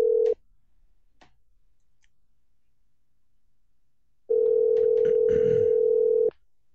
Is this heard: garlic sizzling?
no